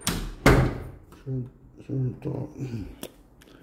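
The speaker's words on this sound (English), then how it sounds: "Lock the door." A hotel room door is shut and locked: a sharp, heavy thud near the start and a crisp click later, with a voice murmuring close by in between.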